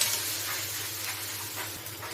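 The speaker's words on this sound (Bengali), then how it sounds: "এরপর এই কাঁকড়াগুলো আমি তেলের মধ্যে ছেড়ে নেব, নিয়ে এটাকে আমি ভেজে নেব ভালো করে।" Crabs frying in hot oil for a spicy crab curry, giving a steady broadband sizzle that holds evenly throughout with small surges, no voices.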